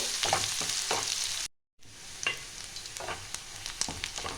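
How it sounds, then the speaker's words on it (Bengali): Chopped onion frying until brown in a pan gives a continuous close sizzle with scraping stir strokes, briefly cut off midway, with no talking. "পেঁয়াজটা একটু ব্রাউন করে ভাজতে হবে।"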